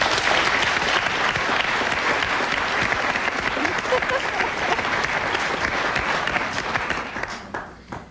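Studio audience at a daytime television talk show applauds loudly and steadily, sustained clapping filling the room for about seven seconds before tapering off at the end.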